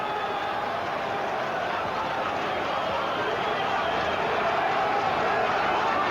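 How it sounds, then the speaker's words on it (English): Steady, dense roar of a stadium crowd at a 1995 Rugby World Cup pool match between Argentina and Western Samoa, a continuous broad din with no breaks and no clear individual voices. "Tremendous din in the stadium now."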